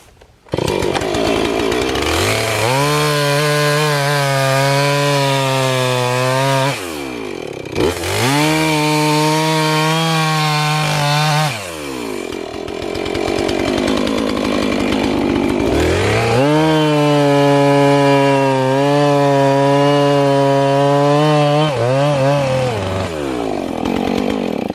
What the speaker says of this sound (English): I just cut a chunk out of this tree so we can cut it up into firewood